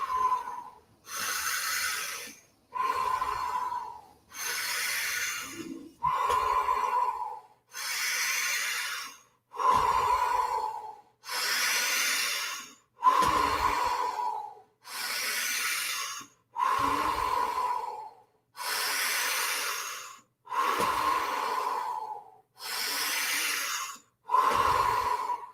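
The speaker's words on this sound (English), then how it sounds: "Breathing in and out of that area." Slow, deep breathing during a guided breathwork exercise: about a dozen long, even inhale-exhale cycles in a steady rhythm, close and clear, with no talking.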